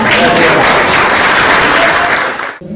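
A dense, steady burst of audience applause at a talk, loud and sustained, that cuts off abruptly near the end.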